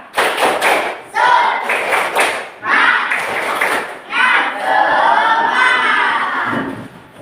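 A primary school class claps in a quick rhythmic pattern, loud and close, with children's voices shouting along.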